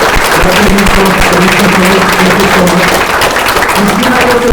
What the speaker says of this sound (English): please clap your hands for the organizing team that has been doing a lot of work